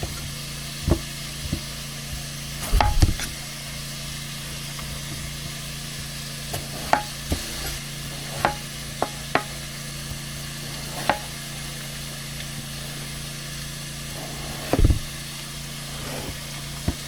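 Stew meat browns in a cast-iron Dutch oven at an Idaho dispersed campsite, a soft steady sizzle under a low engine-like idle hum, broken by scattered sharp clanks and scrapes of a utensil against the pot.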